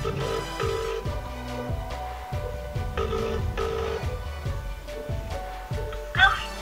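A phone ringtone chimes from an Apple Watch placing a call, in repeating bursts of tones, steady and moderately loud, with a brief louder blip near the end.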